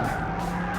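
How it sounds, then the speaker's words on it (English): A Dodge Viper power slides, its tyres skidding in a brief, loud continuous squeal over the engine's roar, with no talking. "Let's sort this power slide out and see what's what."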